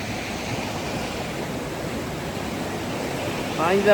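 A flooded mountain river in heavy rain rushes in a steady, loud broadband roar, constant throughout with a slight swell at the very end.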